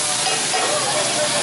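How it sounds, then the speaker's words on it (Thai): French fries frying in a pan in a Siem Reap restaurant kitchen give a loud, constant dense sizzle and hiss with no breaks. "เราทอดในกระทะ"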